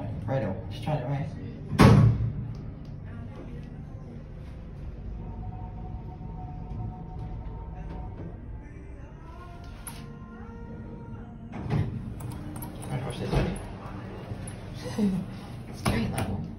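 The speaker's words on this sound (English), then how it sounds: "It's a really nice loud door lock." Inside a KONE traction lift at Brisbane Arcade, the doors close with a solid thump and the lock engages with firm clunks, while people talk throughout and a soft mechanical hum carries in between.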